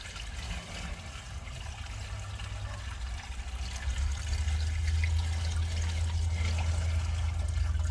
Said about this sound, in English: I'm going to put some water down line here, help flush that toilet paper out of the way